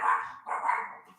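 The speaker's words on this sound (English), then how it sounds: "Stupid dog." A dog in a home gives two close barks in quick succession, the second longer and trailing off.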